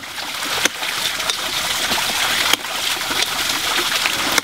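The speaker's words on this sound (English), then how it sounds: "Put water up to our garden hose." Water from a ram pump rushing through a garden hose in an irrigation setup, a steady hissing flow with occasional sharp clicks or knocks, fairly close and alone with no talk.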